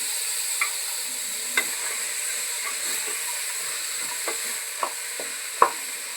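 Washed chickpeas and potatoes with coriander and curry leaves hiss in a pan of sizzling masala for a Kerala-style curry, a steady soft fry punctuated by several sharp spatters and stirring clinks.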